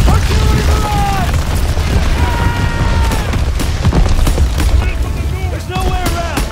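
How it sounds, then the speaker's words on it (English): Artillery barrage in Call of Duty WWII, a continuous loud roar of booming explosions and battle noise, with shouting voices layered over the rumble throughout. "Germans in the open! Get down! Artillery barrage!"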